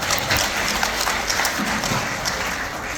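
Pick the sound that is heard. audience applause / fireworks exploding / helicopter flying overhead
audience applause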